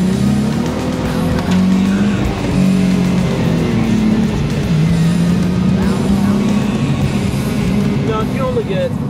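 A Nissan 370Z Nismo's 3.7-liter, 350-horsepower V6 with a deep, throaty exhaust and six-speed manual holds a loud, steady droning engine note throughout, with a brief tire squeal.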